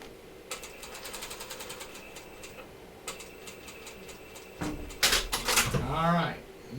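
A sewing machine runs in short rapid stitching bursts while top-stitching a bathing suit, followed by louder fabric handling and a rising and falling whir near the end, with a voice speaking faintly over it.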